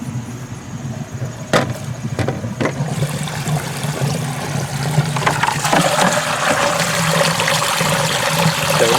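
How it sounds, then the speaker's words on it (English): A swimming pool pump runs continuously while closing the pool for the season, with a steady hum, watery gurgling and a few brief sharp splashes or pops as air bubbles get in when it loses prime. "Oh, I'm hearing bubbles."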